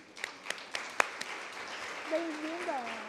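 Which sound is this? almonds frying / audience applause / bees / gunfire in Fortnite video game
audience applause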